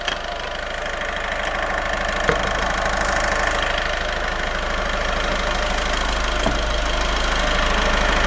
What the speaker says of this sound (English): while the engine is at idle